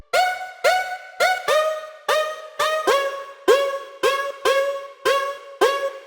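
Serum pluck preset modeled on a future bass track, repeating bright, harmonically rich plucked notes in a steady bouncy rhythm, each with a quick attack and short decay, loud and alone.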